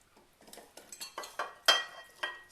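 Chunks of butternut squash and other soup ingredients tumble into a metal saucepan in a series of soft knocks and clinks, growing louder with a few sharper metallic taps near the end.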